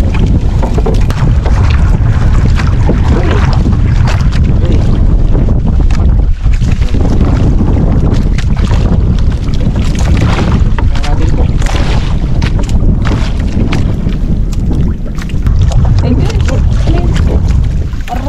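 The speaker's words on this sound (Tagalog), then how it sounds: "Ang lakas na ng ano ngayon." Strong wind roars continuously against the microphone while sea waves churn and splash around a small boat at night during prawn fishing, loud and constant throughout.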